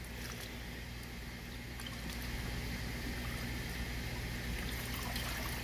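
SCBA firefighter masks rinsed in a water bin during decontamination, giving a steady close wash of running, sloshing water with a constant low hum beneath.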